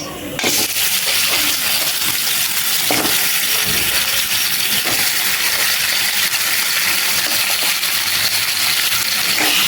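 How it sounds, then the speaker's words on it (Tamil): Crab dropped straight into hot oil in a pan for crab gravy, bursting into a loud, steady sizzle after a brief quiet start and hissing on without a break. "டைரெக்டாக அந்த எண்ணெயில் நம்ம நண்டை கொட்டிடலாம்"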